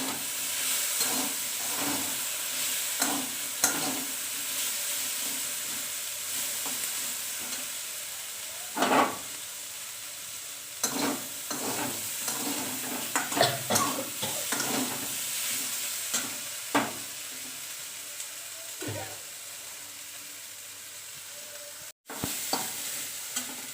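Cumin paste and spice paste frying in a pan while being stirred, a steady sizzle and hiss with scraping stir strokes coming through in uneven bursts, close and moderately loud, no talking.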